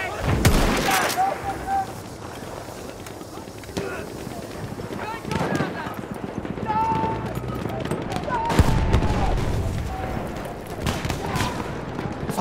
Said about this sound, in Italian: Bin hier auf einen MG gestoßen!